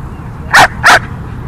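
A dog barks twice in quick succession, close and loud, during protection decoy training, with a quiet pause between the two sharp barks.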